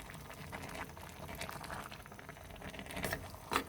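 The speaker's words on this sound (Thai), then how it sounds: "ก็ต้มให้เขาสุก" Bamboo shoot soup seasoned with homemade fermented fish boils in a pot nearby, a steady rolling bubble with irregular popping and a small clatter at the very end.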